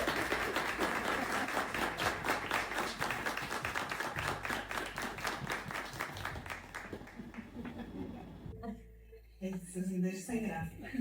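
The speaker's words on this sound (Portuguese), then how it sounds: "Gente, vamos bater uma salva de palmas pra Mônica." A room at a bookstore launch event in São Paulo gives Mônica a round of applause: dense, rhythmic clapping from a crowd that thins out toward the end, with voices talking over the last seconds.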